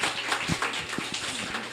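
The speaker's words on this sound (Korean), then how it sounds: "우리 연주해주신 오카리나 지도자 양명숙 주민님께 다시 한 번 더 힘찬 박수 부탁드립니다." A crowd at a residents' rally in Dong-gu, Ulsan, applauds an ocarina instructor after her performance, giving a steady, moderately loud patter of many hands with a few sharper individual claps.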